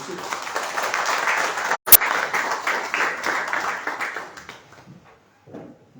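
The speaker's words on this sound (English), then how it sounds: "A big round of applause for Honorable Minister" Applause from an audience greeting an Honorable Minister at a public launch event, a steady patter of clapping lasting several seconds, cut by a brief gap, then fading out near the end.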